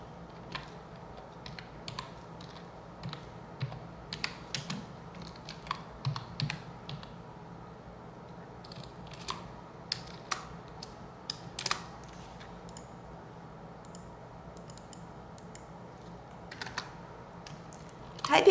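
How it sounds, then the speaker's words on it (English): Typing on a computer keyboard, irregular bursts of clicky keystrokes at a moderate distance over a low steady background hum, with pauses between flurries as if typed with one hand. "Typing one hand just really slows me down"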